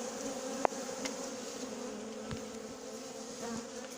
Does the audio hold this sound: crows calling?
no